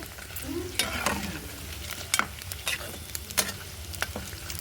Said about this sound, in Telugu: చూడండి ఫ్రెండ్స్, చికెన్ బాగా వేగుతుంది.